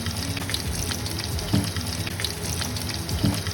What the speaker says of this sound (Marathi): लंगडीत तेल टाकून घेतलं, त्याच्यामध्ये मोहरी टाकले, लसूण टाकले, कढीपत्ता टाकले, उभं चिरलेलं कांदो टाकले